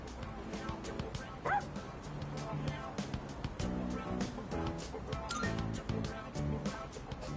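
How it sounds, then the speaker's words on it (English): An angry dog in the video game Persona 3 Reload barks and yips repeatedly while chasing, sharp barks scattered over busy game music and effects. "He accidentally stepped on a doggy's tail. And now he won't stop chasing him."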